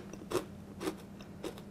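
Three quiet, close, crisp crunches a moment apart as someone bites into a white cheddar chip dipped in salsa.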